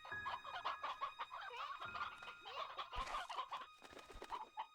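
Several chickens cluck and squawk close by in a continuous, busy flurry of calls, loud and overlapping, with no speech over them.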